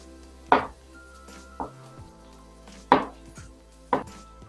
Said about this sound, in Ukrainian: Розрізаю навпіл і такими не тоненькими шматочками нарізаю.